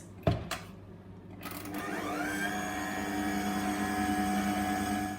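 A stand mixer kneads Easter bun dough after liquid ingredients are added to the dry ones. A few clunks come first, then the motor whirs up into a steady, close droning hum with no talking.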